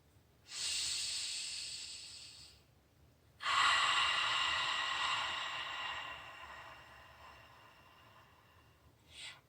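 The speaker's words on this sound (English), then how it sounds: "You can do it through the mouth on the exhale or through the nose on the exhale, preferably through the nose on the inhale." During a guided breathing exercise, two long airy breaths through the nose rush in close, each lasting a couple of seconds or more, with a brief quiet gap between them and a short sniff at the end; nobody speaks.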